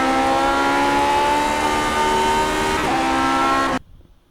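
A Lotus 49 race car's engine in the iRacing Grand Prix Legends game at Magny Cours screams loud and high-revving, with one brief upshift dip midway, then cuts off abruptly near the end.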